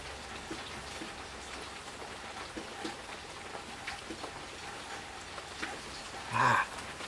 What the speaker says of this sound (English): The rain's starting to pick up here.